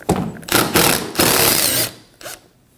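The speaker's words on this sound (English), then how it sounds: "We're going to remove the screws from those as well on either side." A power tool drives out screws from a D-shaped recess in a 2015-2024 Ford Edge front bumper cover, with three or four close, loud whirring bursts and a final short burst.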